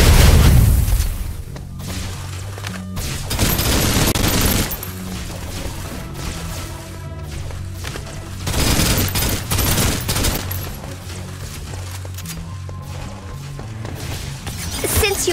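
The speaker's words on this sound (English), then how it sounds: "Suppressive fire." Heavy suppressive gunfire in Snowbreak: Containment Zone, loud continuous automatic bursts mixed with deep booms and explosions, surging and easing in waves throughout a long, busy firefight.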